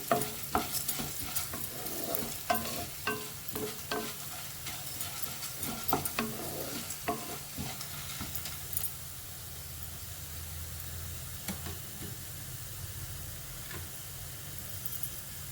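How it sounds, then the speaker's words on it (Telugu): Coriander seeds roasting dry in a pan with lentils while being stirred: quick scraping and rattling strokes for the first half, then a softer steady sizzle and hiss, close and fairly quiet, no talk. "ఇప్పుడు ధనియాలు వేస్తున్నాను."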